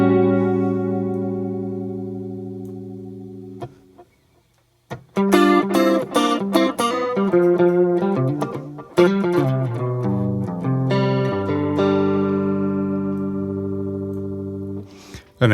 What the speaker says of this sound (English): maybe use a chorus with the speed and width quite high.